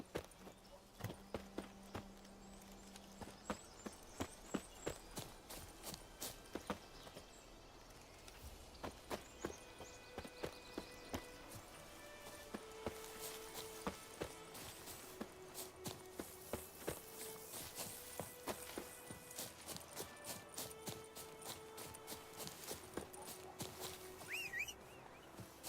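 Horse hooves clip-clop at an even walking pace in The Witcher 3, quiet and steady, with soft sustained game music tones beneath the hoofbeats.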